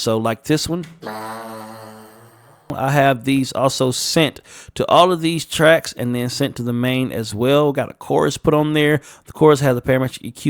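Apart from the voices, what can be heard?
No everyday noise stands out behind the speech.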